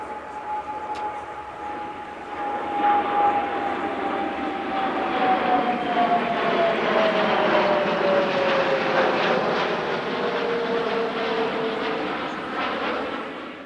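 An RAF Voyager KC-2 jet at the Cosford air show passes overhead in a long, loud, sustained engine roar with a slowly falling whine, swelling and holding before easing off at the end.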